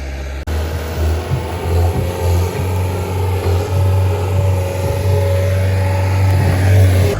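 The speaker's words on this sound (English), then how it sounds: "It's my turn for a lesson on the tractor." A small garden tractor's engine runs steadily nearby with a low, continuous droning hum that holds at an even, loud level throughout, outdoors at a rural property.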